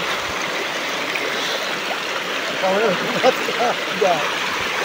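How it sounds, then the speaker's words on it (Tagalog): A steady rushing stream of flowing water in rural Barangay Tumalim, Philippines, with faint voices and a few brief chirpy sounds near the end. "ayan ang tubig guys"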